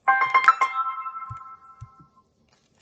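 A mobile phone rings in a quiet room with a short bright melodic burst of tones that rings out and fades over about two seconds, followed by a couple of soft low thumps.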